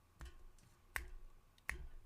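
Three crisp finger snaps ring out close by at a slow, jazz-style beat, evenly spaced over a quiet room.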